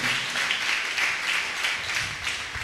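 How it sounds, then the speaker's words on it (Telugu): Church congregation applauding together in a dense, continuous wash of many hands clapping, steady and fairly loud throughout, with no talk over it. "చప్పట్లు కొట్టేసే నామాన్ని ఘనపరుద్దాం."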